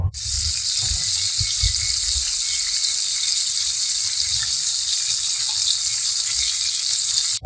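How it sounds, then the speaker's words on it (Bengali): Jackfruit being stir-fried with spices in a pan, a steady loud hiss of frying that runs unbroken throughout, with low scraping and stirring knocks underneath. "ভেজে রাখা এঁচড়গুলো দিয়ে দিতে হবে দিয়ে মশলার সাথে এঁচড়টা নেড়ে নিতে হবে"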